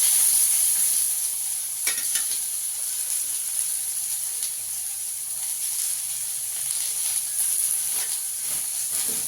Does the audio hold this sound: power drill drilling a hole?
no